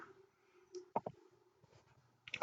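Computer mouse clicks during an Angular 8 reactive form tutorial: a pair of sharp, close clicks near the middle, a few softer taps after, and a louder burst at the end, over a quiet background.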